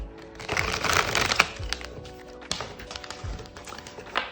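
Tarot cards are shuffled by hand in a quiet room, a close, soft riffling and slapping of card stock that comes in irregular bursts and taps over a few seconds.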